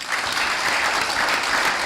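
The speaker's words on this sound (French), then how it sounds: "qui mérite vos applaudissements" Audience applause at a public address rises in a thick, steady wash of clapping, loud and sustained throughout with no voices over it.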